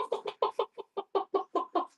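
A woman imitates a hen clucking with her voice, giving about a dozen short, evenly spaced clucks up close with nothing else beneath them.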